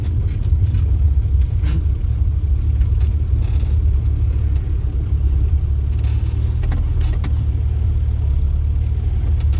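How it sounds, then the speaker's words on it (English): A classic Mini driving along a road, its engine humming steadily at close range as the small car cruises, with a few light rattles inside the cabin. "we're on an ideal road today to test this car as well"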